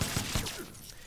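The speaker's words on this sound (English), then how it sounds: "On block, you can always go into your hand cannon as well, the machine gun" Jacqui Briggs firing her hand cannon machine gun in a fighting video game: a quick burst of three or four sharp, evenly spaced shots that trails off into a short mechanical rattle, loud and alone.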